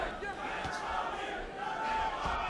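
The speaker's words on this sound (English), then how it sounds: "Crowd chanting Triple G, Triple G." A boxing arena crowd at a Golovkin versus Stevens fight chants rhythmically, a dense roar of many voices from a distance that holds steady with rising swells.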